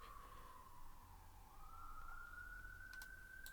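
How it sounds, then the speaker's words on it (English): An ambulance siren at night, faint and distant, its tone sliding slowly downward and then upward as it wails over low background hum. "A lot of ambulances out tonight."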